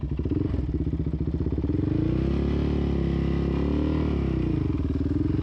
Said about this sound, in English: tell me if my ATV sounds weird